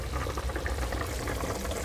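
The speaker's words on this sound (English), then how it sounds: "came to a simmer" A lidded pot of food simmers on the stove with a steady, dense bubbling and gentle rumble that runs continuously without pause.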